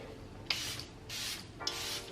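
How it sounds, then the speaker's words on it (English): Makeup setting spray is misted from a pump bottle in three short, close hissing bursts, each opening with a faint click, over a low room background. "Setting spray."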